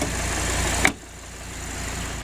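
Audi R8 supercar engine running steadily, a smooth mid-pitched hum that briefly swells then settles into a quieter, even drone, no voices present.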